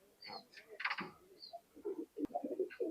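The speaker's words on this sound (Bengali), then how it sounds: "এই দুটো টেডি কবুতর আছে দেখেন।" A pair of teddy pigeons, male and female, coo and call softly in a close, quiet space, with short bursts of bird vocalisation scattered across the moment.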